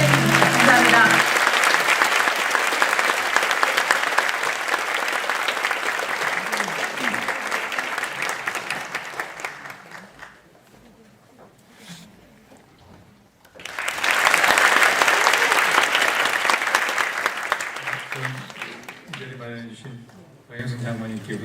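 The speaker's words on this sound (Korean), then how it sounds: "힘찬 박수로 환영해주십시오" Audience applause welcoming Bank of Korea governor Lee Chang-yong to a Sogang University global leadership lecture, long sustained clapping that dies down briefly then swells again, with a voice speaking at the start and end.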